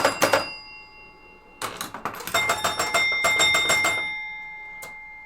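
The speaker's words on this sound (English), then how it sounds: "But the bells make up for that quiet, because the bells are loud." The bells of an electromechanical pinball machine ring loudly in quick bursts of rapid strikes, with pauses between volleys and a lingering metallic ring fading out.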